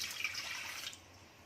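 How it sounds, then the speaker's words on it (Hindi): Water poured from a full cup-sized measure into a pan in a home kitchen while making ladoos, a short bright splashing pour that runs for about a second and then stops, with no talking. "प्याला भर के पानी ले लूं।"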